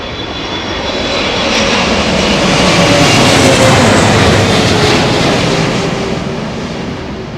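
An airliner comes in to land at Heathrow Airport in gusty wind, its jet roar swelling loudly as it passes close by, then gradually easing off while still near.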